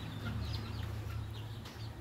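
Hens in a backyard chicken yard, including brooding hens, give soft repeated clucks and brief higher calls over a steady low background hum, close by and without talk.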